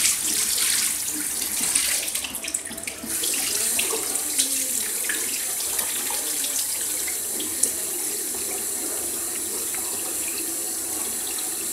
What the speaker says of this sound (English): And then I suppose rinse your hands off